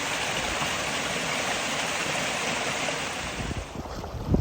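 A river rushes steadily beside the Appalachian Trail in Tennessee near the Virginia line, a loud, continuous broadband wash of flowing water close by with no voices.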